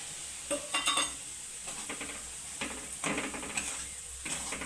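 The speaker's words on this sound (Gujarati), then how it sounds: "ઘી આવી ગયું છે તો આપણે રવો નાખી દેવાનો છે" Semolina being roasted in ghee in a pan: soft sizzling with scattered scraping and stirring clatters of a spoon against metal, quiet and close, with no voices.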